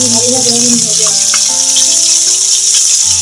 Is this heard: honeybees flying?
no